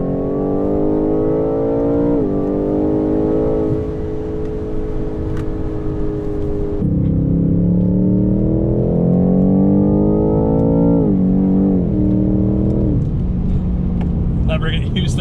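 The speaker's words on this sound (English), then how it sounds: "the sound of that V8 engine, twin turbocharged for 625 horsepower, unbelievable" A 2020 BMW M8 Competition Coupe's twin-turbocharged 625-horsepower V8 roars loudly on a race track, rising through the revs in repeated pulls with sharp drops at each shift, close and continuous.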